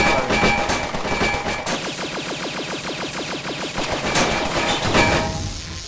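Rapid automatic gunfire rattles in the Cortex Command video game, a fast continuous stream of shots with a few louder bursts, close and loud throughout.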